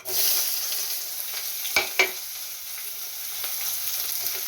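Soybeans with onion and garam masala frying in a pan: a constant, close hissing sizzle with a couple of sharper crackles or stirring knocks near the middle.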